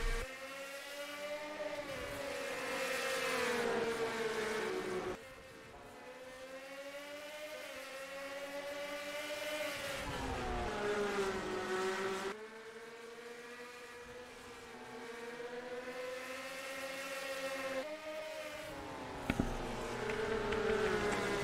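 A pack of race cars accelerates at the start of a race after the pace car pulls onto pit road, a loud sustained engine roar with rising and falling pitch as the cars shift through gears and sweep past.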